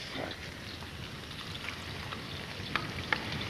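A stir fry sizzles steadily in a hot pan, giving an even crackling hiss with a few sharper pops and spits, and faint talk can be heard in the background.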